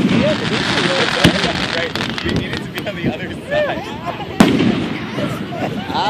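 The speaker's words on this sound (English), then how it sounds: "This is like the best fireworks I've ever had." July 4th fireworks over Margate, New Jersey, seen from front-row seats, crackle and pop steadily with sharp louder bursts among them, while excited spectators talk throughout.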